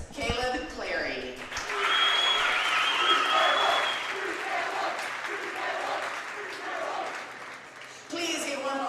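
Crowd applause in a school gym for senior Rams and Lady Rams basketball players at a Buckeye Central at Upper Sandusky boys game, steady and full for several seconds with a voice talking over it at the start.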